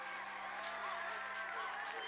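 An audience applauds guest Victoria Prego at the Días de Radio 2019 event, a steady wash of clapping with voices talking over it throughout.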